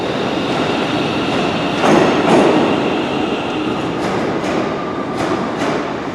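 A London Midland train rumbles steadily through Glasgow Central station, with rail noise and a few clicks and brief swells as carriages pass close by.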